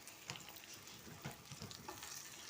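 Okra being added to potatoes frying in a pan, heard as a quiet sizzle with soft stirring scrapes and light clatter at an uneven pace.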